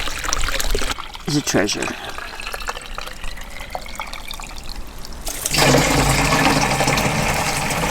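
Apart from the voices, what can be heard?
spring water trickling at Frog Springs in the desert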